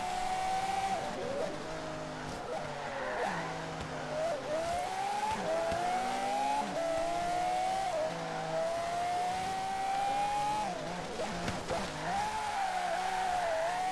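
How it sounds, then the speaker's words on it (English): Car engines rev and race in the video game Forza Horizon 3, with repeated rising and falling pitch sweeps and occasional tire squeals, loud and continuous. "My car is loud or your car is loud?"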